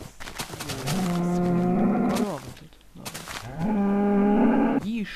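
Two long, loud Minecraft cow moos follow each other with a short pause between, each a sustained low bellow that bends in pitch at the end.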